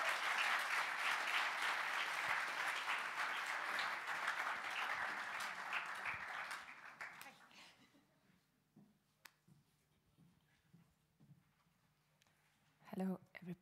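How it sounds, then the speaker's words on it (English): Event audience at a business competition final applauds loudly and steadily for about six seconds, the clapping thinning and fading out as a voice and faint stage sounds follow. "Make some noise, applause."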